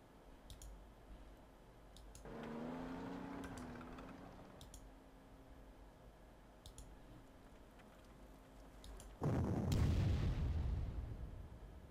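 Artillery fire sounds in the Panzer Corps World War II strategy game during a Poland campaign. Light interface clicks and a droning tone come first, then one loud, booming blast rumbles near the end.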